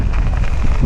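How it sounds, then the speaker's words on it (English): Wind buffeting the microphone while riding a HITWAY electric bike outdoors: a loud, low, rumbling roar that flutters unevenly for under a second. "Let me just turn around here out of the wind a little bit."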